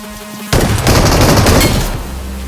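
M249 light machine gun fire in BGMI mobile gameplay: a loud, dense automatic burst that starts abruptly and roars continuously for about two seconds before tapering off.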